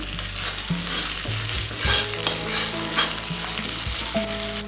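Shahi paneer masala with kasuri methi and spices frying in a pan, with a strong close sizzle, repeated spoon scrapes and clinks on the pan, and no voices.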